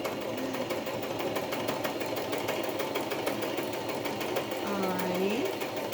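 A sewing machine stitches through paper pockets on a small paper pad, its rapid needle chatter running steadily and close for the whole stretch while a person talks over it.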